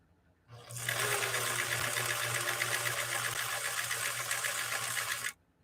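A sewing machine with a 1.5 amp motor stitches through denim with a leather needle, running as a steady fast mechanical whir for about five seconds, close and alone, starting and stopping abruptly.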